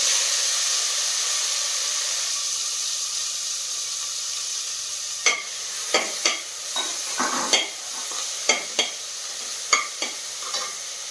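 Chopped onions sizzle in hot oil in a pan for a butter bean and mushroom gravy, a steady close hiss with a series of sharp scraping stir strokes in the second half, and no talking.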